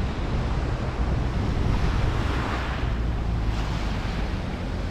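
Red Sea surf breaking along the shore at Jeddah Corniche on a cloudy day, a steady continuous wash of waves mixed with wind noise on the microphone, with no voices.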